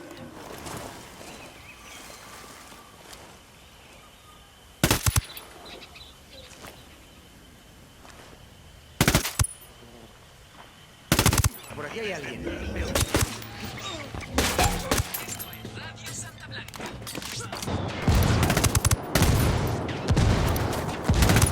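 Enemy gunfire in the tactical shooter Ghost Recon Wildlands, with several loud sharp bursts of shots spread apart and then thicker rapid fire toward the end, over game ambience and occasional voices.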